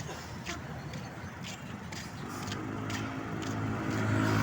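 Vehicle cruising along the highway in Apalit, Pampanga, with a broad steady road and engine rumble that swells slightly as it picks up speed, heard from inside with no talking.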